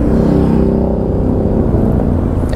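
A Harley-Davidson Low Rider S motorcycle on its stock exhaust rumbles loud and close with a steady deep engine drone and slight revving throughout, no voices over it.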